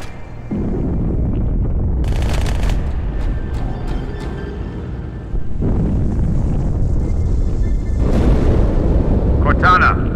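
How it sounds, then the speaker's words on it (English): A large explosion aboard a ship rumbles and booms in the Halo 2 video game, a long roaring wash of low noise with bursts of crackling debris and a fresh surge near the end. "That explosion came from inside the Athens, same as the Malta."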